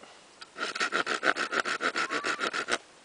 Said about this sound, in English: I just take my trusty saw and cut a groove in it